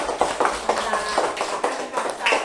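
A small group of primary school pupils claps in uneven, sharp bursts in a classroom, the hand claps close and distinct rather than a smooth roar, with voices faintly mixed in.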